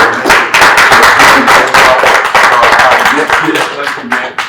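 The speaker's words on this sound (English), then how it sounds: "Let's give them another round of applause." Close, loud applause bursts out from a group, with sharp overlapping claps that swell and then gradually thin out toward the end.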